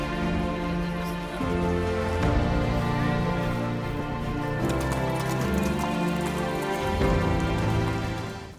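Horses walk and trot through pouring rain on a multi-day group trek of more than 150 riders to San Giovanni Rotondo. Hooves clop in an uneven rhythm over a steady wash of rain, with a sustained tonal bed underneath.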